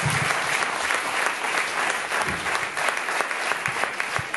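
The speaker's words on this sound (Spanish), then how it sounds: "Un aplauso." A festival audience gives a warm round of applause, dense, continuous clapping from a sizeable crowd with sharper individual claps popping out near the microphone.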